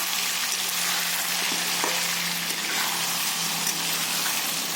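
Chicken pieces sizzling steadily in hot oil in a pan, a continuous close frying hiss with faint clicks, no talking.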